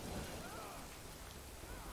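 Rain pours steadily in the video game Death Stranding, a faint, even hiss with a low rumble underneath that holds for the whole stretch.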